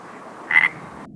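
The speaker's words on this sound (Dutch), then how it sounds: "Neem nou bijvoorbeeld de kikker. Kwaak." A single frog croak, loud and close, a short burst sitting on a steady background hiss with nothing else around it.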